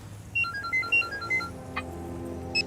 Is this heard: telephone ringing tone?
yes